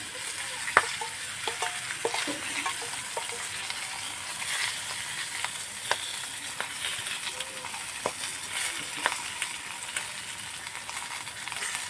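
Paneer mixture cooking on a banana leaf set in a wok, a soft continuous sizzling hiss with scattered light clicks and taps throughout.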